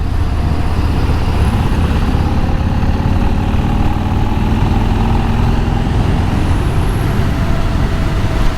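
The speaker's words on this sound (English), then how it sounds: "I basically got two construction trucks." Two construction trucks rumble past with a steady, loud engine drone and dense road roar, heard from close by with no break for the whole stretch.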